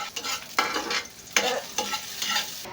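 Garlic and onion frying in a little oil in a pan, with soft sizzling and several bursts of stirring scrapes spaced through the short stretch, close by, with no talking.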